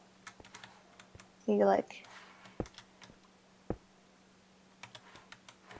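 Keys clack on a computer keyboard during a Minecraft session, scattered sharp close clicks tapped in short irregular bursts, with a brief spoken phrase partway through.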